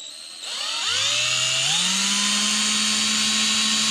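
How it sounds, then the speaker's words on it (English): A power drill spins up with a rising whine, then runs steadily at high speed drilling pilot holes to install an armrest in a Toyota 86, loud and close, with no talking. "Now I'm gonna start drilling our pilot holes."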